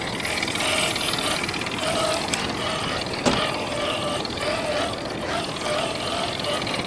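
The steering servo of a Rlaarlo JK-07 RC Jeep binds up, producing a steady, strained mechanical whine with a faint grinding texture and one sharp click partway through, heard up close with no talk.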